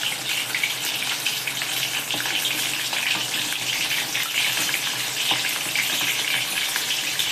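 Soybean chunks frying in hot oil give a dense, steady, loud sizzle that barely varies, with faint bubbling beneath it and no voices.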